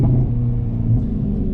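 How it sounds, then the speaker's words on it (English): Loud, steady low rumble of a stock 2021 Hyundai Veloster N engine, heard from inside the car, holding a deep drone with slight surges throughout. "This car is so loud, and I can't believe it's stock."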